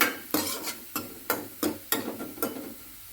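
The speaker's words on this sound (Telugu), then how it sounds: "ఆ తర్వాత ఆనియన్స్ అన్నీ రెడ్గా అయ్యే వరకు మనం ఇట్లా కలిపి పెట్టుకోవాలి" Onions frying for chicken curry are stirred in a pan, with a rhythmic series of spoon scrapes and knocks about every half second over a soft sizzle.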